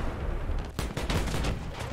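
Rapid bursts of gunfire in War Thunder's April Fools 2023 exoskeleton combat suit event: quiet at first, then a sharp volley that breaks into a string of closely spaced, fairly near shots.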